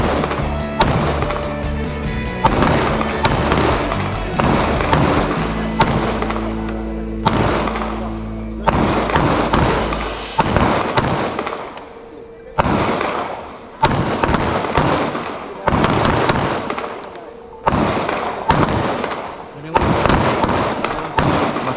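Guns fire in repeated loud bangs at close range, each sharp report followed by a short pause in a steady rhythm, with a voice speaking between shots.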